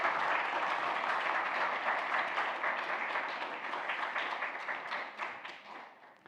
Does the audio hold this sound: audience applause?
yes